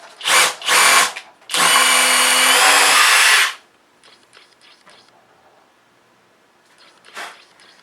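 A Kobalt XTR power drill in a drilling test against a DeWalt 887 gives two short bursts and then a loud, sustained whine of about two seconds that stops abruptly, followed by faint clicks and a brief final buzz.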